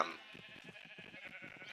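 Sheep on a farm in the Minecraft video game bleat in a quick run of short, wavering cries, close and fairly clear over a faint background.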